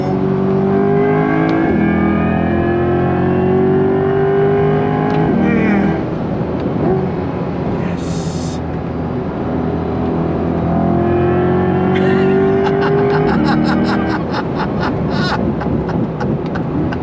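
A C8 Corvette E-Ray accelerating hard around a track, its engine note climbing steadily and loudly under continuous throttle, with brief tyre and wind noise; no talking over it.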